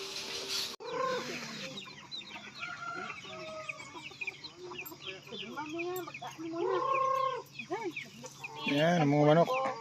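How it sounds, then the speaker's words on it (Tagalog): Farm chickens cluck and squawk repeatedly at close range, several birds overlapping in an irregular, busy chorus throughout. "Yan, mga manok."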